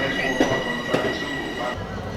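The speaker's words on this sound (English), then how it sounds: "On the train, on our way to Penn Station." Steady rumble of a moving passenger train bound for Penn Station, New York, with a couple of sharp clacks from the wheels, continuous and close, heard from onboard.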